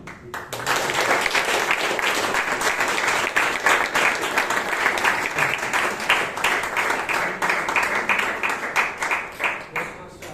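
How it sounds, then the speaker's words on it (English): An audience at a Bangalore Toastmasters meeting claps in sustained, even applause that begins after a brief pause and continues strongly for about ten seconds, fading slightly toward the end. "a big round of applause for her."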